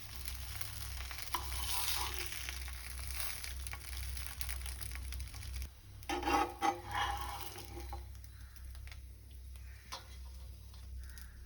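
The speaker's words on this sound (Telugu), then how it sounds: "నెయ్యి వేడయ్యాక స్టఫింగ్ చేసి పెట్టుకున్న బ్రెడ్ రోల్స్ని పెనం మీద 2 పక్కన గోల్డెన్ షేడ్ వచ్చే వరకు మీడియం ఫ్లేమ్లో ఫ్రై చేసుకోండి" Stuffed potato and cheese bread rolls fry in ghee on a flat pan over medium flame, giving a steady, quiet sizzle with a low hum underneath and a few louder crackles and stirring clatters midway.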